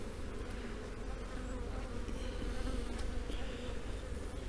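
A dense, steady drone of many honeybees buzzing close by from an open hive, continuous and even throughout with no voices.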